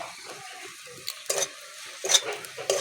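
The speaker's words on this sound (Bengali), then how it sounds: "সব কিছু ভালোভাবে কষিয়ে নেব" Spices and tomato for oil-free ghugni are stirred in a pan, soft low sizzling punctuated by a few bright scraping strokes of a spoon against metal, close and brief.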